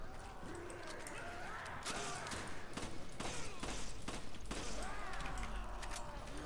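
Gunfire in Resident Evil 5 during co-op play: a run of sharp shots at irregular intervals within dense, noisy game action, with a rumbling low background throughout.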